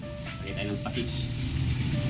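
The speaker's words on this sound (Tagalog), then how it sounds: "Lagay tayo ng patis." Sizzling menudo fries with a steady, close hiss that swells slightly as fish sauce goes in, with a brief faint voice over the frying.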